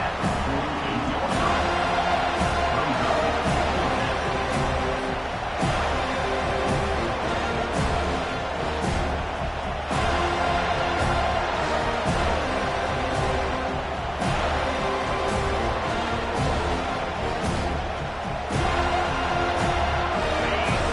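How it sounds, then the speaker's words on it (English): A large football stadium crowd roars continuously during a fourth-down play, a loud, dense wash of cheering and noise. It surges slightly in waves throughout. "This crowd bringing serious noise on this huge 4th down play."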